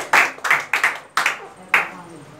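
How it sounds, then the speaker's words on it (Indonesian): Guests clap at an Indonesian engagement ceremony, giving five or six sharp, scattered claps from a small group. The claps are close and uneven, each followed by a brief decay. "berikan tepuk tangan"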